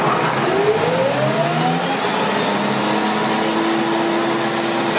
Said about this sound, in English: Now the speed of the motor is amplified by 10 times through this gearbox that turns the generator faster